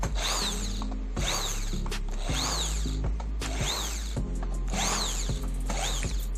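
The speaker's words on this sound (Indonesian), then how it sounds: "ini saat dicoba untuk melepas skrup juga lancar dan kuat" Power drill backing out a screw in repeated bursts, about five whirring pulses with ratcheting clicks between them, close and loud with no talking.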